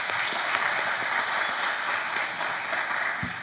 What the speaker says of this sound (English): can we just give a clap for that?